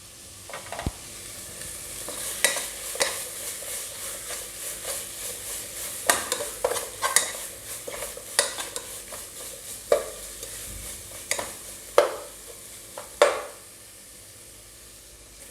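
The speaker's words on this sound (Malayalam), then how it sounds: "ഇതിലേക്ക് നമുക്ക് ഉപ്പ് കൂടി ചേർത്ത് നന്നായി ഒന്ന് വഴറ്റിയെടുക്കാം." Egg curry masala with salt being sautéed in a pan: a soft sizzle runs underneath while sharp scraping stirs of a spatula strike irregularly, close and with no one talking.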